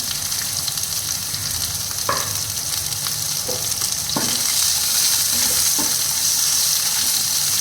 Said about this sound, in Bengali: এরপরে দিয়ে দিচ্ছি পেঁয়াজ, একটু মোটা মোটা করে কেটে নিয়েছি।